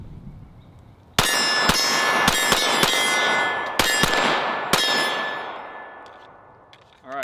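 A Shadow Systems MR920 pistol fires at steel targets, each shot ringing out as a sharp metallic clang with a lingering ring. About eight close, loud hits come at irregular intervals, then the ringing fades.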